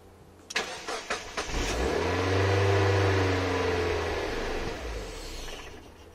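A Mazda MX-5 bought from a cash machine starts with a few cranking bursts, then the engine catches and runs steadily at idle, close and loud.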